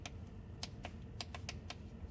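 Aftermarket buttons on a Tesla center console being pressed, a quick run of about nine crisp, close clicks in an uneven rhythm with no voices.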